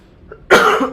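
A single loud, close cough bursts out after a brief moment of quiet.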